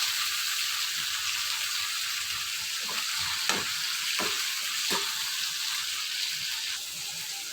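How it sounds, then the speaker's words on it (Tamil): Shallots and tomato sizzle in hot oil in a home kitchen, a constant bright frying hiss with a few soft stirring knocks and scrapes, no talking. "எண்ணெய் காஞ்சிடுச்சு, சின்ன வெங்காயம் ஆட் பண்ணிடலாம்"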